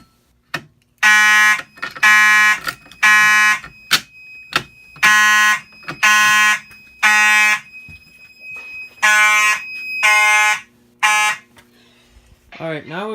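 A 1990s-style fire alarm system sounds repeated loud electronic horn blasts in an uneven on-off pattern during a re-alarm test, with brief pauses between bursts and a faint voice near the end.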